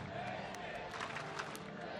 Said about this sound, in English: Listen to the crowd. It's a packed house here.